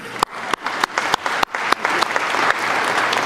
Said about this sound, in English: Some of you probably would find it appropriate to clap.